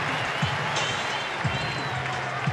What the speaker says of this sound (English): Mitch gets a round of applause.